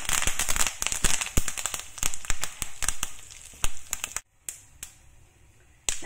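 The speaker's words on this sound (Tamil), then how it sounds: "நல்லா குழம்பு வடகம் நல்லா வெடிச்சிருச்சு" Loud, rapid crackling and popping of kuzhambu vadagam and curry leaves spluttering in hot coconut oil, dense sharp bursts that thin out after a brief pause into scattered pops.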